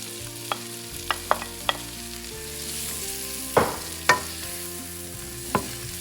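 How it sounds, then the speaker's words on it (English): Chopped onions sauteing in oil or butter in a pan, a steady close sizzle with a handful of sharp spoon scrapes and stirring clinks scattered across it, no voices. "We are going to allow this to saute for a minute or two before we continue."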